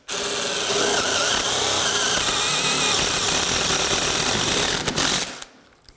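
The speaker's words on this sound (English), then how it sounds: "now I can drill a hole through here" A cordless drill fitted with a quick-connect attachment bores a hole through subfloor, a loud, close, continuous whirring grind that holds steady for about five seconds before stopping abruptly.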